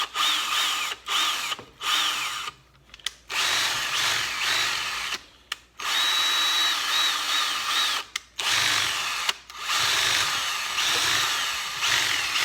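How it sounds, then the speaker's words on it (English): A handheld drill spins a wire wheel brush against metal on a Ford F-150 wiper linkage, a loud whirring buzz in repeated bursts with short pauses between, close up and without talk. "The interesting thing about these type of wire wheels, they start to turn over, so all you got to do is reverse your drill"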